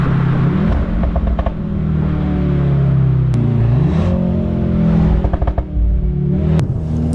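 An artificial engine drone played through the speakers of a 2024 Mercedes-AMG C63 S E Performance, a four-cylinder hybrid, hums loudly inside the car, its pitch climbing and dropping with throttle, punctuated by a few sharp clicks.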